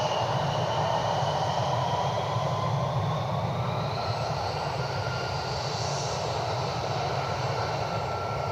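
An aircraft at Cleveland Hopkins airport roars steadily at a distance, a broad continuous engine rumble with a drifting whine that holds level for the whole stretch.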